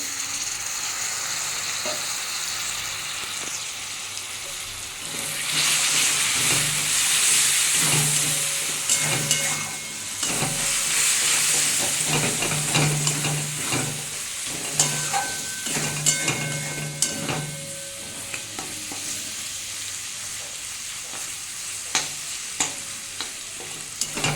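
Taro stolons sauté in a pan with cumin powder, salt and a splash of water, a steady hissing sizzle broken by repeated spatula stirs and scrapes over a long stretch.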